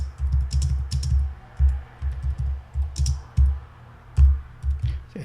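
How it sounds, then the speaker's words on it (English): Typing on a computer keyboard while setting up a WordPress site: a close, steady stream of quick key clicks with a few louder taps, alone without talk. "And you simply type in here whatever you want on this."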